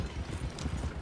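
Horse hooves clip-clop steadily in the Red Dead Redemption 2 video game, a continuous near trotting rhythm with no talk over it.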